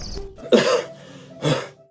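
Two rough, throaty coughs come close to the microphone, separated by a short pause, with no talking.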